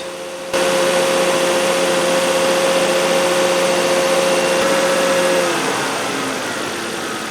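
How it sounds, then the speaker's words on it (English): A Volvo S60 T5 car engine holds a steady idle-to-raised drone with a constant whine, then eases down near the end; no voices. "So I'm in my car revving up the engine a bit."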